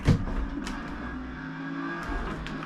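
An 1980s Lamborghini in Forza Motorsport runs with a steady droning engine tone at sustained revs, a brief sharp burst at the start, then the engine note holding and shifting slightly, with no talk.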